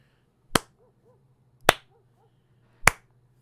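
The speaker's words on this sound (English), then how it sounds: "You hear someone clapping in the darkness from the gate." Three sharp, isolated claps spaced about a second apart, crisp and fairly close, over a low steady hum.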